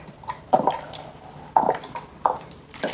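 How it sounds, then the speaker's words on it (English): A squirt bottle is filled with cool water from a tap, heard as a soft running trickle broken by several louder gurgles and splashes at irregular moments. "now I'm going to fill these guys up with water"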